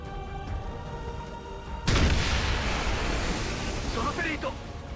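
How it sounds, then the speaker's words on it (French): An explosion in XCOM 2 bursts in suddenly after a quiet stretch, a loud broad blast that decays into a long rumbling tail, with faint game sounds after it. "il va se prendre l'explosion"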